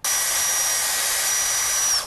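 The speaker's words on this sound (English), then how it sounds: "the students were down with those drills" Power drill whirring steadily as students at an elementary school drive it into bottle cap art, a loud continuous motor whine held for about two seconds before spinning down.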